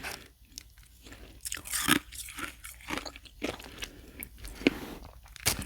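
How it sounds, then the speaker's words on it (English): Ice rings and finely crushed ice crunch between the teeth in close, irregular bites. Sharp cracks stand out against quiet gaps, with no talking. "So we got some ice and some ice rings. Just some crunching."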